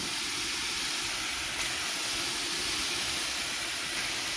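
Onion and pigeon hiss in a hot pan, a dense, steady, close sizzle that continues unbroken throughout without any talking.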